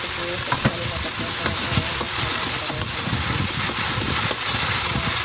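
Garlic and onion sauté in hot oil for ginisang upo, a dense close sizzle with stirring scrapes and spatters, and a faint voice now and then.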